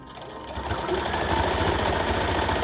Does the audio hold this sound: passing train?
no